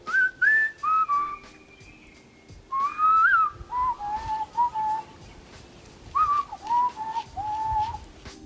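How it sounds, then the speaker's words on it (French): A Hadza man in Tanzania whistles to communicate with honeyguide birds. He gives repeated short, warbling whistled phrases that rise and fall, some held and some trilled, close and clear against quiet outdoor background. "Regarde comment cet homme de la tribu tanzanienne des Hadza siffle pour communiquer avec ses compagnons à plumes."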